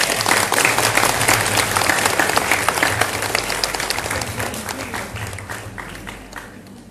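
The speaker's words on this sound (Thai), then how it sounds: "ขอเสียงปรบมือให้" An audience at an IT vocational education open-house event bursts into loud, dense applause that holds steady and then gradually fades out.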